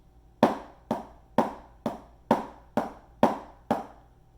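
Eight crisp single drum strokes in four evenly spaced pairs, each hit sharp and close with a quick decay, no voices.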